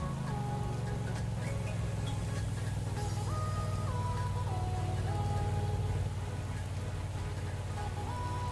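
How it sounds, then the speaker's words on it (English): Steady rain in the Pro Cycling Manager video game during a Tour of Japan stage, a constant even hiss of falling rain with faint game tones over it, continuous throughout with no talk. "Raining today."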